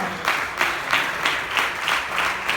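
Church congregation clapping in rhythm, a steady pattern of bursts about every third of a second, fairly close and loud with no talking over it.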